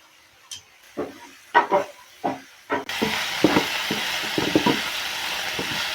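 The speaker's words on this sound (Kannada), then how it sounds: "ಈಗ ಒಗ್ಗರಣೆ ಹಾಕೊಳತ್ತೀನಿ" Tempering spices dropped into hot oil for a barley rice khichdi, starting with a few sharp separate crackles and pops, then breaking into a loud, steady sizzle with continued popping, close up and without speech.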